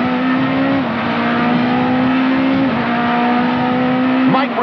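Touring cars at Kyalami circuit in 1993 pulling away at the start of a South African Super Touring race, loud engines revving hard through gear changes as the pitch climbs and drops, a close, dense field of motors.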